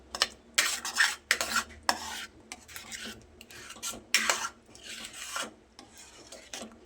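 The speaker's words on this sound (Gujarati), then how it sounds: "હવે ધીમે ધીમે હલાવતા જઈ એને સરસ મિક્સ કરી લેવાનું છે" A spoon stirs and scrapes through a sorghum flour and yogurt batter in a pot on a low flame, in rhythmic bursts of rasping strokes separated by short pauses, close and clear with no voices.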